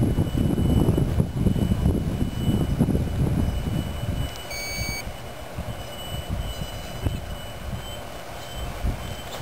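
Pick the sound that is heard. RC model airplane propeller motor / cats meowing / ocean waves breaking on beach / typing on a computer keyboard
RC model airplane propeller motor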